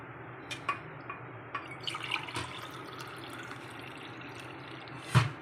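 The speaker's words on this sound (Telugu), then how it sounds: "నేను నానబెట్టుకున్న వాటరే వేస్తున్నాను" Soaking water poured from a vessel into a pot of soaked rice for sweet jaggery rice pudding, a soft steady trickle with a few louder splashes and drips, close and quiet with no talk.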